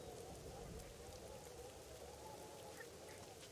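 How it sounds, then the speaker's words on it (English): Steady rain falls in the video game Submerged, a dense continuous patter close by that fills the whole moment without letup, with no voice over it. "Whoa, it's raining?"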